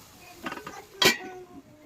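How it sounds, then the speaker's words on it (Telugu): A metal lid set onto a cooking pot of fish curry, a few light clinks followed by one sharp metallic clang, close and brief in a quiet kitchen. "సో మనం ఇప్పుడైతే డక్కని లిడ్ పెడదాం"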